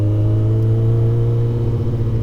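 A warmed-up motorcycle engine runs steadily nearby after half an hour of riding, a dense, even low drone with a slight rumbling throb throughout and no voices.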